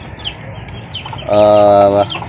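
Backyard chickens, young cockerels about three months old, cluck and chirp faintly before one loud, drawn-out crow rises clearly for under a second near the end.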